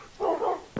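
Puppies bark in the video game Minecraft: two short, close yips, the first a longer bark and the second a brief sharp one, against a quiet background.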